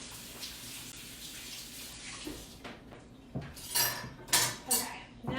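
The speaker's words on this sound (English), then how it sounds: "flip this, move these things, rinse them off." Water running under a tap while food is rinsed during a corned beef and cabbage cooking session, with splashing and clattering dishes and utensils that grow louder toward the end, close and without speech.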